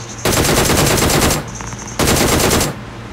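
Automatic gunfire in an iPhone mobile shooter game rattles out in two loud, rapid bursts, each lasting over a second with a short gap between, close and dominant.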